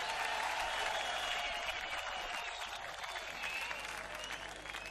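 A large outdoor crowd at Norwood ground applauds to welcome the Indian Prime Minister, a dense, loud and steady clapping that holds for the whole stretch with no pause.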